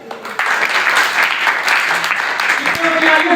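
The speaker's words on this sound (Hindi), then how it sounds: "इनके लिए जोरदार तालियां बजाइए।" Loud, sustained applause from a crowd of children and adults at a school event, dense clapping that swells and holds steady, with a brief voice under it near the end.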